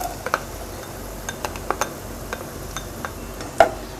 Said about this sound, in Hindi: अब मैं इसमें डाल दूंगी लहसुन अदरक और इसको थोड़ा सा भून लेंगे 1 आध मिनट